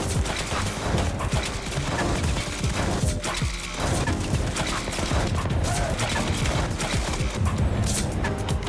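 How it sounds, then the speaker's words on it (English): Sustained roaring burst of fire from a flamethrower in the Roblox game War Machines, a dense, loud, continuous crackling rush that holds steady without pause. "Okay, so now we're moving on to the Flamethrower."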